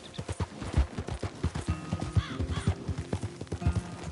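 A horse gallops in Red Dead Redemption 2, its hooves beating in a quick, close, rhythmic clip-clop with brief tonal whinny-like sounds mixed in.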